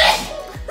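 One short, close sneeze bursts out at the start during a birthday road trip, then fades into a low, quiet background.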